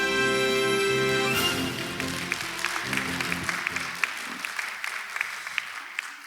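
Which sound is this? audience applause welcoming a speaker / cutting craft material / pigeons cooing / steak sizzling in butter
audience applause welcoming a speaker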